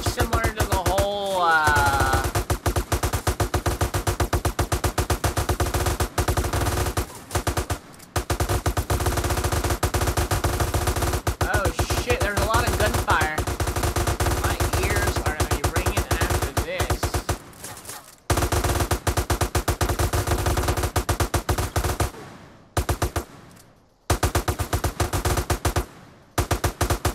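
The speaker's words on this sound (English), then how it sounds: "Everyone's getting shot and getting killed." Dense automatic gunfire and overlapping shots in a GTA DYOM mission modeled on The Last of Us, rapid bursts sustained nearly throughout, loud and continuous with brief pauses near the end.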